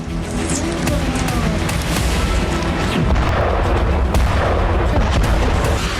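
Heavy, continuous rumbling with dull booms and sharp cracks from Russian strikes and artillery fire in Dnipro, Ukraine, loud and dense throughout with no pauses.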